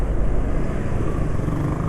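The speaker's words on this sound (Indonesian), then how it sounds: "suara mesin sudah kasar ya," A motorcycle engine idling rough and no longer smooth, its oil worn after 112 km of use, runs as a steady close mechanical drone with no talk.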